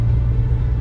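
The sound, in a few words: car engine roaring on a steep uphill climb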